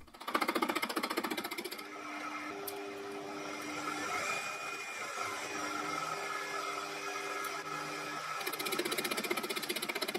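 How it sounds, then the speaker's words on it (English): A Proxxon PD 250/e lathe takes very shallow cuts while turning a 4-jaw chuck backplate, giving a steady, continuous mechanical whine with sustained tonal lines and an even level throughout, without talk. "passes will have to be very shallow to avoid overloading the lathe"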